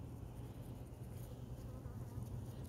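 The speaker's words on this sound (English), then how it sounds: "There's bees flying everywhere" Bees buzz around the blossoms of a columnar apple tree, a steady close droning hum with no speech.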